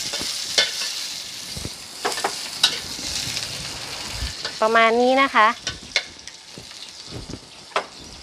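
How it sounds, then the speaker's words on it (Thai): Crushed garlic and sliced chili sizzle while stir-fried in a pan for a Thai okra dish, with scraping stirs and spatula clicks over steady frying, and someone speaks briefly in the middle. "ใส่เป็นกระเทียมทุบปุบลงไปค่ะ แล้วก็ พริกนะคะ ที่หั่นฉลบเตรียมไว้ค่ะ ผัดให้หอมดีเลยนะคะ"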